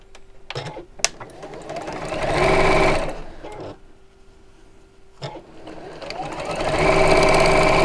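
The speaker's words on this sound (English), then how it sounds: "And we'll sew down there." A sewing machine stitches fabric in two runs of steady motor whirr, with light clicks and handling noises between them and no speech.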